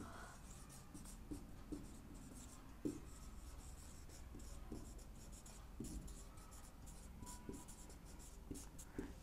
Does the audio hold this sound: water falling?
no